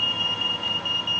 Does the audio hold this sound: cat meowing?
no